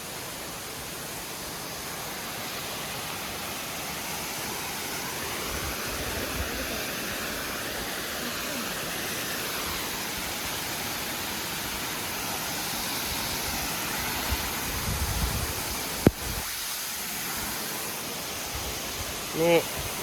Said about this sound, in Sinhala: මේකට තමයි කොළපතන ඇල්ල කියන්නේ